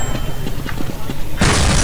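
Gunfire in the Counter-Strike Online video game: a run of low, muffled thuds followed by a sudden loud, sharp burst of shots that carries on to the end.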